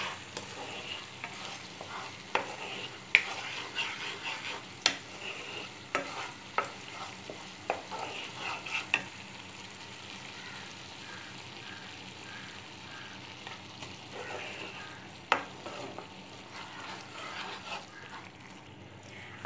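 A spoon stirs salt into a simmering tomato gravy in a pan, with a soft continuous sizzle and bubbling and a few light scraping clicks, steady and fairly quiet throughout.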